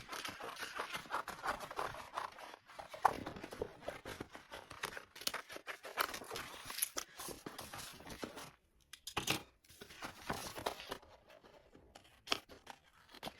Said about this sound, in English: I'm going to cut around this and I'll come right back to you when I get it cut as much as I can